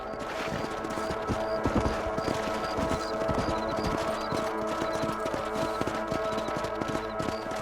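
A horse trots in the video game Red Dead Redemption. Steady, rapid hoof clip-clops sound close and continuous on a ranch, over a dense, busy game background with no voices.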